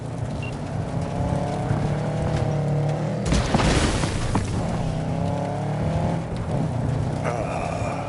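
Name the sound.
car driving in Cyberpunk 2077 video game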